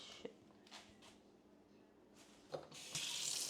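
Tap water runs into a sink while string beans and okra are rinsed, quiet and uneven with small splashes, then swelling into a fuller gush toward the end.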